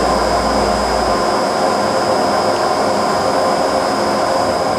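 A Vanguard 18" x 72" flat bed CNC lathe, model CAK50186DI, runs at speed with a loud, steady roar and a constant high whine.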